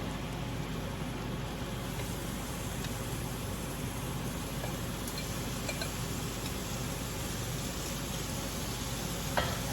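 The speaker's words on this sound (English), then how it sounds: "Now I'll be adding my stew meat into the onion mixture." Chunks of stew beef sizzle steadily in a pan of frying onions, a dense even hiss held for several seconds with a faint tap near the end. No one talks.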